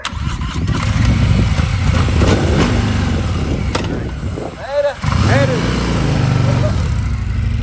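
A Harley-Davidson motorcycle engine idles loudly and close by with a steady low rumble, briefly revving up near the middle, while people talk over it.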